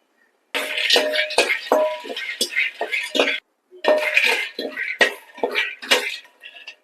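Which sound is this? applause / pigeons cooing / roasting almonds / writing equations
roasting almonds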